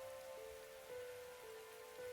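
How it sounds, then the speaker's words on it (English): Steady rain patters on a surface in a video game, a continuous soft hiss with a faint repeating tone underneath and no voices. "Like just regular rain is not as bad as it seems."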